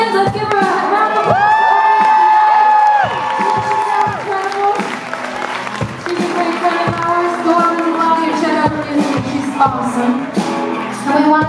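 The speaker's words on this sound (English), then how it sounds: "Let's give her a round of applause." A concert audience at the Avalon Theatre in Easton, Maryland, applauding and cheering for the band, with loud sustained whoops and shouts over steady clapping, and a voice talking through parts of it.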